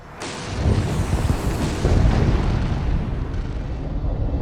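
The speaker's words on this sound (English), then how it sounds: "The air bombardment continued overnight." Explosions from the 2003 air bombardment in the Iraq war form a dense, loud, continuous rumble of booms and blasts, with no voices over it.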